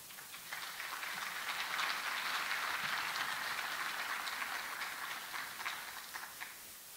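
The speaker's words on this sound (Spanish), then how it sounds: "Un cordial aplauso." An audience at a Spanish-language book presentation gives a cordial round of applause, a soft, steady patter of clapping from across the room that swells slightly in the middle and then eases off.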